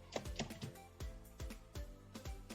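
Keystrokes on a computer keyboard while entering a traceroute command on a PC for a static-routing networking lesson, clustered quick taps in short bursts with pauses, close and fairly quiet.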